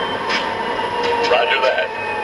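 An MTH O-gauge SD45 model diesel locomotive in Montana Rail Link livery runs its shutdown sequence, with tonal whines and hissing bursts over a steady hum, close and fairly loud, with a radio-style voice among the effects.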